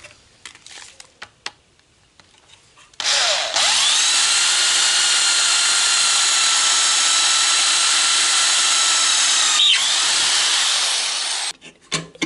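An electric drill bores into a small metal part clamped for a Citroën Traction 11B, with a steady high whine lasting about eight seconds, preceded and followed by light clicks and handling sounds.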